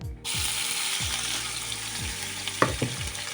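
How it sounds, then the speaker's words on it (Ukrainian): A loud, steady sizzle of onion frying in hot oil fills the whole stretch, with faint rhythmic low clicks underneath. "Зігріту олію, додаємо цибулю"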